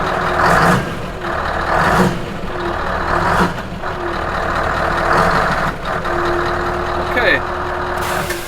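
A Scania 770 V8 truck engine rumbles steadily with a few swells as it is revved, heard close from inside the cab, with short beeping tones and a hiss over the top.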